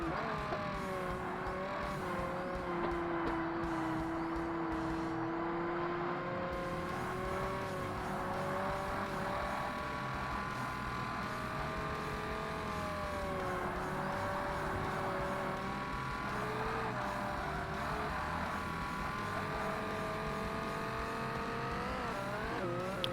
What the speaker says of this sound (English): Literally changed gear in midair just to stop it over revving and damaging the engine.